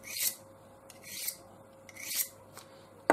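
A knife blade drawn along a Buck Edgetek Ultra Flipstik diamond sharpening rod, giving three close, gritty rasping strokes at a steady pace with short gaps between them and a small click at the end.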